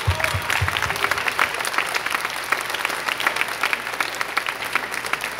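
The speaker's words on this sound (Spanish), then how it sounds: "vamos a comenzar con un aplauso para ellos" An audience at a WE DO CON convention event in Cuernavaca applauds the organizers, with dense, steady clapping that carries on unbroken, close and fairly loud, and no voices over it.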